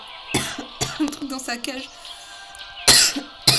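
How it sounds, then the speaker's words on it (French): A person coughs a few times in short bursts, mixed with ongoing speech and game sounds during mobile survival gameplay. "Pardon, je tousse."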